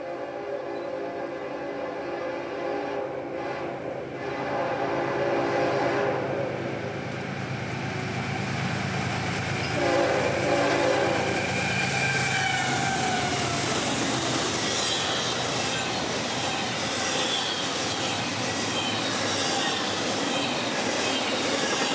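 A CSX Jacksonville-bound intermodal train rolls past at Folkston, Georgia, a rising heavy rumble of wheels and railcars with a loud horn blast early on, growing nearer and louder and staying dense to the end.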